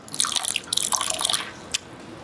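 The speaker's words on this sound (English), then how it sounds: "A little splash of water." A small splash of water goes into a dish with tamari being adjusted while cooking, giving a brief close-up burst of splashing and dripping, then a single last drip.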